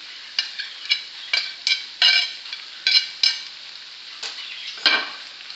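Diced bell pepper stirred in a frying pan with olive oil, a soft sizzle under irregular scraping strokes of the spoon, close and alone.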